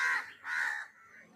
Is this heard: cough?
no